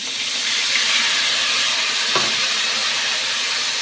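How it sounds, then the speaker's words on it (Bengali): Grated ginger, cumin, green chilli and chopped tomato paste sizzle in hot oil in a pan, a steady loud hiss with no speech. "এবার আমি এই তেলের মধ্যেই আগে থেকে বেটে রাখা আদা, জিরে, কাঁচা লঙ্কা এবং কুচি কুচি করে রাখা টমেটো পেস্টটা এর মধ্যে দিলাম"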